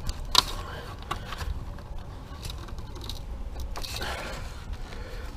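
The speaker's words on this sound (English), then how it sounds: "you just push it on this clip and then it pulls out of this side" A parking light clip on a 2003 Chevy 1500HD is pushed and released, giving one sharp plastic click near the start, followed by faint creaks and handling noise at close range.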